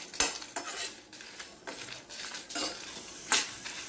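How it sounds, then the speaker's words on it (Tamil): Urad dal, fenugreek and pepper dry roasting in a pan, with a spoon scraping and clinking against the metal in a steady rhythm of close, fairly soft strokes and a few sharper knocks. "நம்ம ட்ரை ரோஸ்ட் பண்ணிப்போம்."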